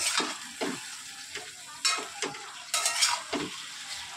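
Taro curry is stirred in a frying pan, with repeated scraping spatula strokes at an uneven rhythm over a soft, steady sizzle, close and moderately quiet.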